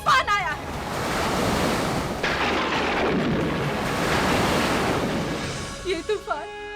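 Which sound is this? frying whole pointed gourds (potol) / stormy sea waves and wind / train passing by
stormy sea waves and wind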